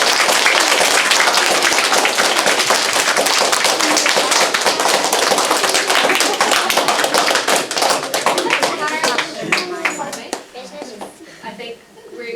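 Audience applause for a group of boys at an event, a loud sustained wash of many clapping hands that thins out and fades toward the end, with some voices mixed in.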